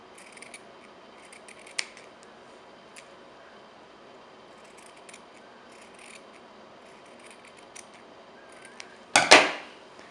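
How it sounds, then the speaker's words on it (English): Scissors cutting felt around a paper pattern for a craft lollipop: a quiet stretch of faint clicks and light snips, ending with one sharp, close cut near the end. "I'm going to go ahead and lay my pattern onto my felt and just cut around the outside."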